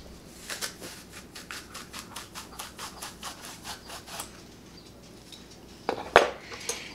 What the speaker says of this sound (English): So then what I do is I just take a corer and core my apple.